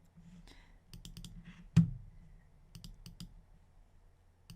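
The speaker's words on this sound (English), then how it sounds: "Right click and left click on group" Computer mouse clicks, a handful of sharp, quiet clicks spaced irregularly over a faint background, with no talk.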